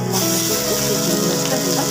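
Ground shrimp paste sizzles loudly as it hits a hot frying pan, a dense continuous hiss heard close up.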